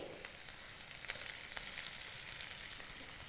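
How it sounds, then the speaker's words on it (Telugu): Prawns and onions frying together in a hot pan, a steady soft sizzle heard up close and unbroken for a few seconds, with no voices. "ఓకే ఆనియన్స్ ఫ్రై అయ్యండి ఇప్పుడు ఇందులో ముందుగా మనం ఉడికించి పెట్టుకున్న ప్రాన్స్ వేసేయాలి"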